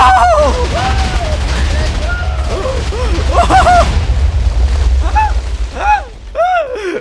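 Loud, rumbling Minecraft explosions with heavy booming low end, while excited voices chatter and exclaim over the blasts.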